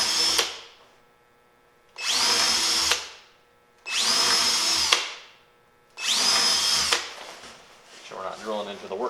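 A power drill fitted with a spade bit bores into wood on a workbench in four loud whirring bursts of about a second each, separated by short pauses, and someone speaks briefly at the end.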